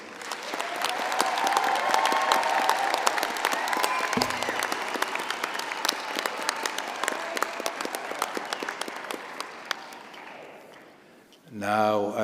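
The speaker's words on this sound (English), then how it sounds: "may I request the parents, the friends, the relatives to give our new graduates a big round of applause" Parents, friends and relatives applaud new graduates at a university law faculty graduation ceremony. Sustained, dense clapping fills a large hall for about eleven seconds before fading, and a voice speaks briefly at the end.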